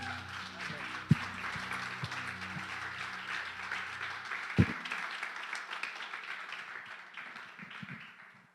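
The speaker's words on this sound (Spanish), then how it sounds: "Vamos a dar un aplauso a Jesús fuerte." A church congregation claps and applauds in a sustained wash of dense hand claps, a few louder isolated hits standing out, gradually fading toward the end.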